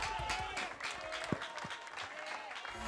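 Studio audience applause on an Indonesian TV talk show, a steady wash of clapping with a few faint voices and crowd noise mixed in.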